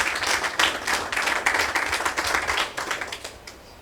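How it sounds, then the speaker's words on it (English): An audience at a farmers cooperative launch in Gambia breaks into a steady round of clapping, a dense patter of many hands that holds for several seconds before tapering off near the end. "Please give him another round of applause."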